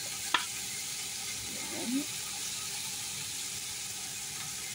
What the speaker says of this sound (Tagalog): So yan, haluin lang po natin yung iyan ha.